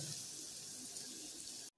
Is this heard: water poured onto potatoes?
yes